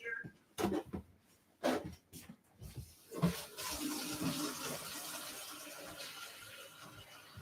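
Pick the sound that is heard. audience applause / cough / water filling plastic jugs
water filling plastic jugs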